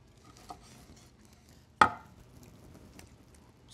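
A knife slicing through warm honey and brown sugar glazed ham, one sharp loud cut against a board after a faint earlier tap, with quiet handling around it.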